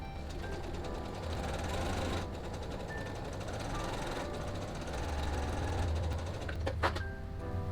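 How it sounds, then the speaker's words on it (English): A sewing machine chain-sews pinned quilt block pieces with a steady, close mechanical whir and rhythmic needle clatter that runs continuously, pausing only briefly, with no talking. "And I'm going to chain sew them like I normally would."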